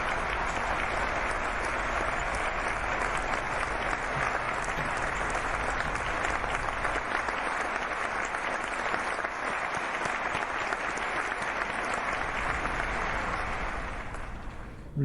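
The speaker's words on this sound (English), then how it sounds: "We're lowering that applause." A canned applause sound effect playing in Microsoft Flight Simulator with the Neofly mission add-on, a dense, uniform burst of clapping held steadily for about fifteen seconds before easing off slightly at the end.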